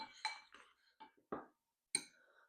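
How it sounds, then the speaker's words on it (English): Clinks and scrapes of a utensil against a bowl while seasoned monkfish is mixed with salt and pepper, a few short separate bursts with quiet gaps between them, close and fairly soft. "a sprinkle of salt, a sprinkle of pepper, give it a mix"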